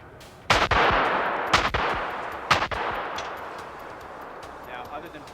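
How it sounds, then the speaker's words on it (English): Three loud, sharp gunshots ring out on a film set, spaced about a second apart, each one followed by a long echoing tail that fades away. "Gunfire!"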